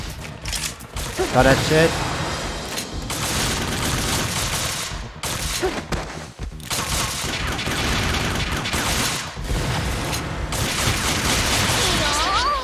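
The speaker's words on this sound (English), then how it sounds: "Shoot her" Near-constant bursts of gunfire from Bullet Girls 2 on PS Vita, loud and close with rapid volleys and short gaps, and a voice talking briefly over the shooting.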